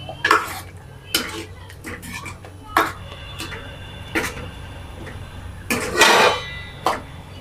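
Matar paneer curry is stirred in a pot with butter, coriander and a little sugar, giving a series of close metallic spoon clinks and scrapes against the pot at irregular intervals, about eight knocks in all.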